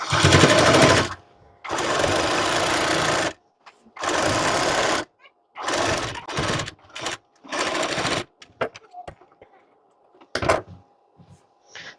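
Sewing machine stitching the side seam of a blouse, running in several loud close bursts of one to two seconds separated by pauses, with shorter runs and faint clicks toward the end.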